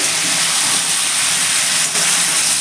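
Spices frying and sizzling in a pan for a potato, pumpkin and pointed gourd curry, a loud steady hiss close by, nearly unbroken apart from a brief dip.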